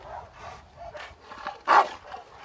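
A working dog gives a short series of barks and yips during bite training, close and moderately loud, the strongest bark near the end, over faint background noise.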